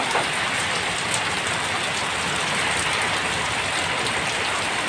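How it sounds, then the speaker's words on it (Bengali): Rain falls steadily and heavily, a constant loud hiss of drops on surfaces that holds without a break from start to end, with no voices. "বৃষ্টি হচ্ছে"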